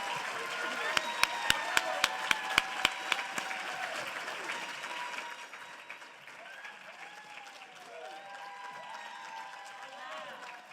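An audience at a county Teacher of the Year celebration applauds a finalist's speech. Loud, dense clapping opens with a few sharp close claps, then settles into a softer, sustained round with voices heard over it.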